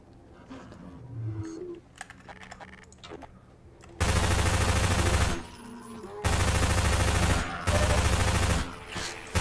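Loud, sustained machine-gun bursts from Half-Life 2 in Ravenholm come in three long volleys after a quieter start with scattered clicks and faint voices.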